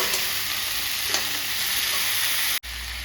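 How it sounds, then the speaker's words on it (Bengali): Raw banana pieces and salt stir-frying in hot oil make a steady, close broadband sizzle with faint scraping, continuous until a brief dropout near the end, then resuming. "এখন একটু নাড়াচাড়া দিয়ে একটু তেলে নুন দিয়ে একটু সময় কষিয়ে নেবো হালকা একটু"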